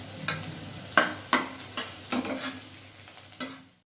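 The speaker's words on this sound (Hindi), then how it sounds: "लहसुन डाल के इसको ब्राउन होने तक भूजेंगे।" Garlic frying in a pan while being stirred, a soft sizzle under repeated scraping strokes of a spoon, close and distinct with no voices.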